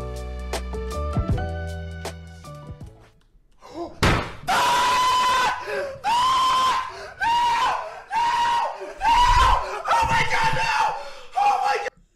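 Man screaming repeatedly while watching a forex trade go wrong: after a stretch of music, a series of loud, drawn-out yells arrives in rapid bursts, close and harsh, with brief gaps between them.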